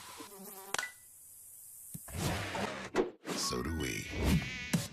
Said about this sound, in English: When mosquitoes show up,